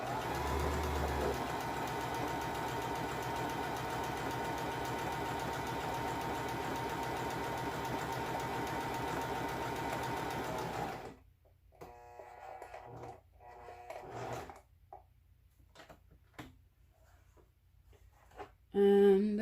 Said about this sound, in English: let's do the zigzag. So we're going to turn the machine.